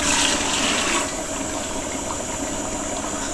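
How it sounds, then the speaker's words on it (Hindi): Water poured from a vessel into soaked rice for a chickpea pulao, a loud gushing splash that starts strong and then settles into a steadier, softer flow, with no talking. "ये अब हम पानी ऐड कर रहे हैं इसमें।"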